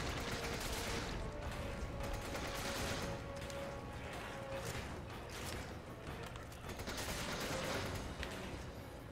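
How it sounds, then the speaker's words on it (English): Dense, continuous machine gun fire in the video game Resident Evil 5, a busy wall of rapid shots and impacts that barely lets up, with game effects layered underneath. "I have two machine guns, actually. Oh, no. I guess it's time to use it."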